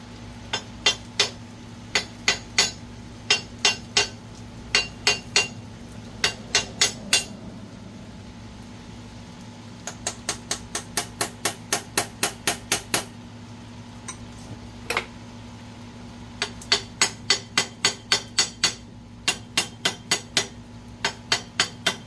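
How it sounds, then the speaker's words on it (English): A hammer tapping a woodruff key on a 1957 Farmall 450 diesel tractor during clutch shaft work, sharp metallic strikes in quick bursts of several taps separated by short pauses, close and crisp over a low steady hum. "I'm giving this woodruff key a few taps back and forth"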